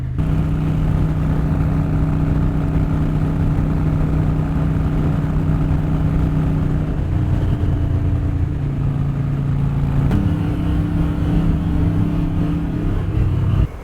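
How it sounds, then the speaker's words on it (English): A crashed Harley-Davidson Dyna motorcycle engine runs steadily at a low, throbbing idle, close and continuous, with a slight change in tone partway through. "the engine runs good"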